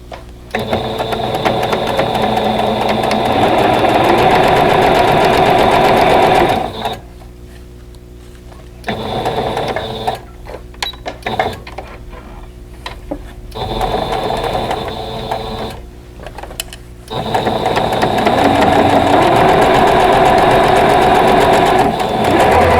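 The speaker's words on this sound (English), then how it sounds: "So let's go ahead and replace the pin and then sew this seam together." A sewing machine stitches a quilt block seam in steady, loud mechanical runs, stopping twice for short pauses with quieter handling noise before resuming.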